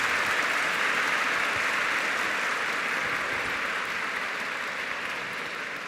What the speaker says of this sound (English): it will be great for all of you to applaud for him